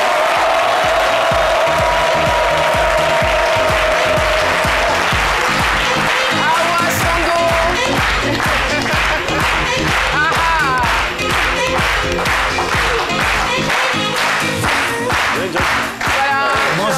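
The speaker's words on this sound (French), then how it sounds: "Merci de l'applaudir très fort." A television studio audience applauds loudly and steadily as a guest singer and choreographer is welcomed on a French midday talk show, dense clapping continuing throughout, with music and some talk mixed underneath.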